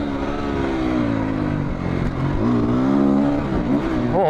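A Husqvarna FE350 dirt bike engine revs hard and close, its rising and falling pitch sweeping through throttle changes in a continuous, loud buzz with no voices.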